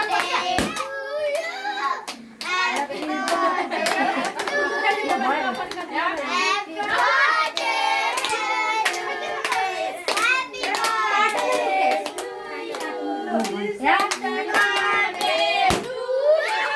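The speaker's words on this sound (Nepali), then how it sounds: "ल ताली बजाउनु" Hands clap steadily at a children's birthday party, close and fairly loud, while kids and adults chatter and call out over the clapping.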